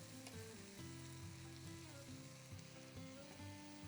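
Corn mince cooking in a pan, a continuous close sizzle and crackle running under a steady background hum and tonal music.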